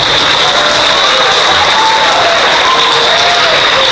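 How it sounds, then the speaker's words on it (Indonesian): An audience at an Islamic religious lecture breaks into loud, dense clapping that carries on steadily throughout, a close crowd applauding with no break. "Orang tuh pun tepuk tangan ragu-ragu"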